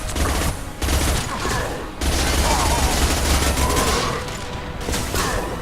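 Submachine gun fire rattles in the video game Mass Effect 2, dense rapid bursts of loud shots with brief gaps between volleys, layered with combat noise.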